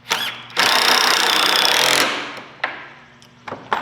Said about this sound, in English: I'm gonna put some glue in and screw it together.